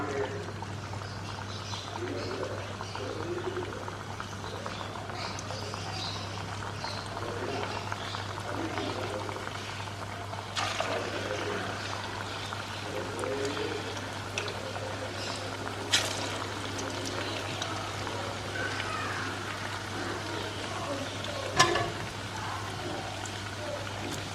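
Rava murukku, a semolina sooji chakkuli, deep frying in hot oil: a steady bubbling sizzle runs the whole time with scattered pops and crackles, close and even, and a low hum sits underneath.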